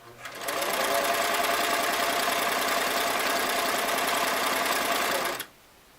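Restored Singer Model 337 sewing machine stitching a straight medium-length seam, a steady loud mechanical hum with rapid needle rhythm running for about five seconds before stopping abruptly.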